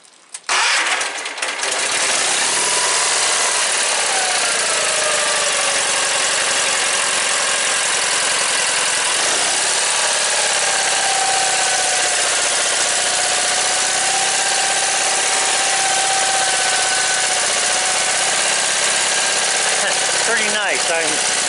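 A snow-pushing tractor's engine cranks and fires, then settles into a loud, steady idle close by with a hard mechanical clatter that runs unbroken for the rest of the clip.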